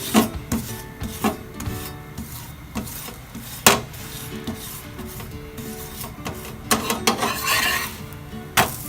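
Oil is spread across an aloo paratha on a hot pan, giving soft scraping and rubbing strokes with a few sharper taps of the utensil against the pan, fairly quiet and steady.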